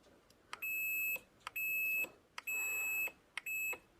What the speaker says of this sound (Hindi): जैसे प्रेस करेंगे तो यहाँ पर बजर बजने